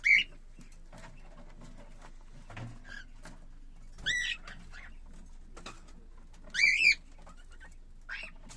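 Young cockatiel chicks, born in February and kept by a breeder in Istanbul, give a few sharp high chirps in short bursts separated by quiet stretches. A soft low rumble runs underneath.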